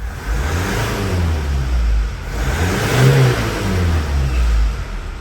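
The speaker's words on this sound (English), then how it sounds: "when I rev it to 3000 RPM, exhaust pressure sensor values should go up quickly" Engine of a Mazda CX-5 revved to about 3000 RPM, two close, loud swells of rising and falling engine roar with no talking.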